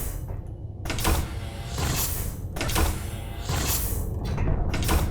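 A large hangar door on a spaceship in Space Engineers slides open, with heavy low mechanical rumbling and several whooshing surges of motion repeating over a few seconds.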